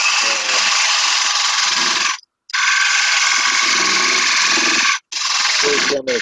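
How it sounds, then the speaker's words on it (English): A power drill fitted with a 5/16 or 3/8 inch bit bores into wood for a three-sided turned bowl, a loud, continuous whirring grind broken by two brief pauses. "and then I'm going to drill, I think I pulled out a 5/16 or a 3/8 drill bit"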